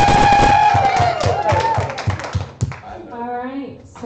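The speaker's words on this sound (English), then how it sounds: "Everyone give him a round of applause." An audience at a live game show breaks into a short burst of clapping and cheers, with a host's voice talking over it before the applause fades.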